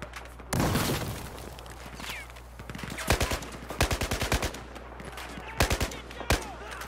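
Battlefield 4 gunfire: a loud single burst, then rapid automatic volleys in quick rhythmic clusters and a few isolated sharp shots, close and punchy over a low background hum.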